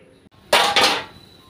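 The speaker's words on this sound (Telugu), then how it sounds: "మూత పెడదాం." A lid goes onto a pot of rice and red lentils heating in water, making one soft, breathy clatter that rings briefly and then fades, heard close up with no one speaking.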